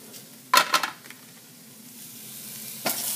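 Peppers with white and red onions and garlic sizzle in olive oil for a veggie soup, with two quick bursts of stirring clatter near the start and another at the end over a steady, close fry.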